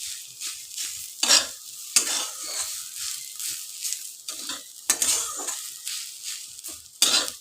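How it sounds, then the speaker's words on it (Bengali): Jackfruit seed mash is stirred and scraped around a pan in repeated rough strokes, each with a gritty rasp and a faint sizzle. It sounds close and carries on for several seconds with no voices over it. "আমি একটু নেড়ে নিলাম।"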